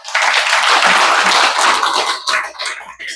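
An audience applauds at a community project review meeting, a dense burst of clapping that holds steady for about two seconds before thinning out into scattered claps.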